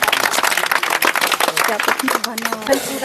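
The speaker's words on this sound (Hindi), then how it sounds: "एक बार ताली के लिए बजाओ लड़की के लिए भाई" Villagers in rural Uttarakhand clap for a schoolgirl after she speaks, a short, lively patter of hands close by mixed with overlapping voices.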